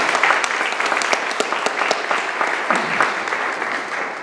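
A church congregation claps for the Lord during a Spanish-language Thursday service, a dense, lively burst of applause that continues evenly for several seconds at close range.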